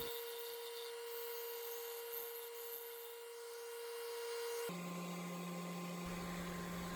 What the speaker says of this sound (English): And the 10-second part of sanding here, which really takes 2 hours